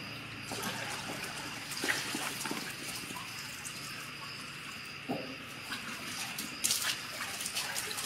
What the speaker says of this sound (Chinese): 多洗几遍，用清水多透几遍